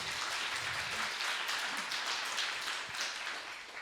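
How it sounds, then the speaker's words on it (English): An audience at a showcase event in Austin applauds a judge, a steady, fairly distant roll of many hands clapping with a faint voice beneath. "Round of applause for Sandy."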